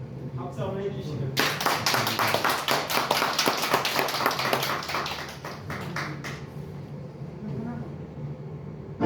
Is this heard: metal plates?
no